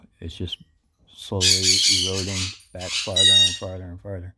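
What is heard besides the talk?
pet parrots squawking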